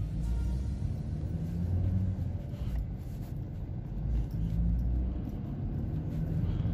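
A Citroën C4 pulls away in first gear, giving a low, steady engine rumble with a bit of road noise heard from inside the car, continuous and moderately loud, with no talking.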